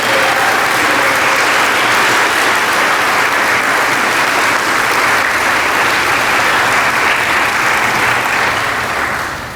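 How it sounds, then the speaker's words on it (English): Audience applauding students at an 8th grade graduation ceremony, a dense, loud, continuous roar of many hands clapping that holds steady and begins to fade at the very end. "a round of applause for these excellent students"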